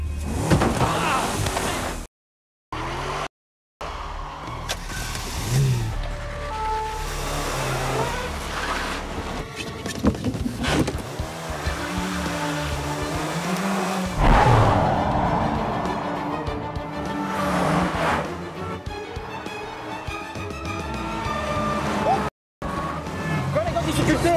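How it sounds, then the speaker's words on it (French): A red Citroën ZX speeds away in a police chase, its engine roaring loud and close with tyre and traffic noise through most of the scene, while voices shout over it. "Véhicule en fuite, une Citroën ZX rouge!"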